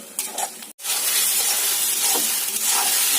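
Brinjal sautéed with cumin paste in a hot oily pan for a village-style tilapia and brinjal curry gives a loud, steady sizzle, with stirring scrapes and a momentary break near the start.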